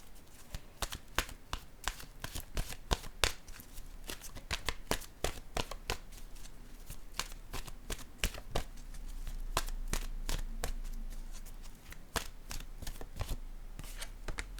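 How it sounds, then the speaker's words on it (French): Oracle cards being shuffled and drawn by hand, a rapid run of crisp, close riffling flicks and slaps repeating through the whole stretch at low volume. "Bon, je vais piger une carte ici."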